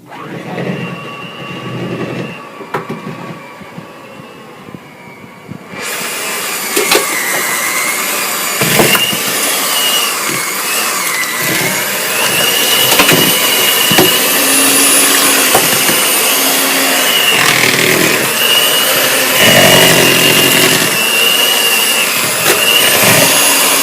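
An electric mixer whirs loud and steady, stirring egg into an Oreo cheesecake cupcake batter, starting after a few seconds of quieter clatter and running continuously near the listener.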